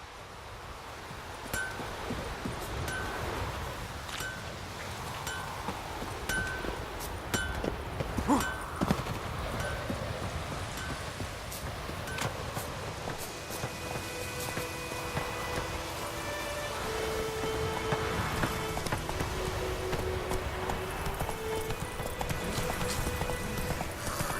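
Roach, a horse in The Witcher III: Wild Hunt, clip-clops steadily at close range on and on, her hoofbeats rhythmic over a bed of rustling foliage and wind, with faint game sounds layered in.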